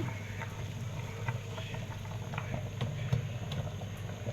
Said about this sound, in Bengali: বলক এসে গেছে